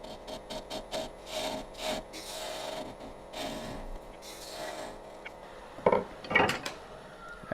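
Hand tool scraping and cutting across the bottom of a wet wood bowl, repeated rough rubbing strokes in a steady rhythm, close and moderately loud, with a few sharper scrapes near the end.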